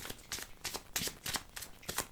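Tarot cards being shuffled, handled and laid down during a tarot reading, heard as a run of close, crisp riffling and slapping bursts that repeat about every third of a second.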